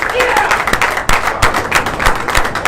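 Bowling crowd at the ABC Eliminator applauding and cheering steadily, a dense wash of clapping with sharp pin-like knocks, close and loud, with speech mixed in.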